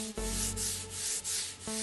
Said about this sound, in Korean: 사포를 고운 걸 쓴다